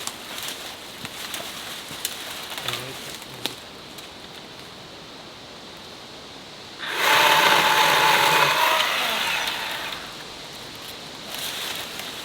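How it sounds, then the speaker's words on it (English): A chainsaw cutting into a log, a loud buzzing roar that kicks in abruptly partway through, holds for about three seconds, then drops away, with quieter scattered knocks and rustles before and after. "now I'm going to take the other chainsaw and cut it the other side"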